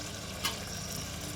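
Curry leaves frying in simmering prawn gravy, a steady close sizzle with a brief louder crackle burst as the leaves hit the hot pan, no talking.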